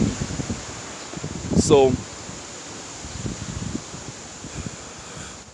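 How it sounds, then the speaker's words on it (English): Gusty wind buffets the microphone with a low rumble and rustle, while a person speaks briefly nearby. "Is it too windy? I feel like it's too windy."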